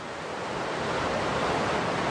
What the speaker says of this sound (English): quickly show you the view the waves are amazing